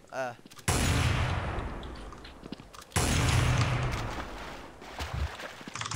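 Two loud, sharp sniper rifle shots in the video game Counter-Strike: Source, a couple of seconds apart, each followed by a long ringing decay, with brief voices around them.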